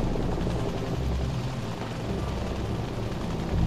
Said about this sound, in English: The helicopters. They're right above us. They're very close.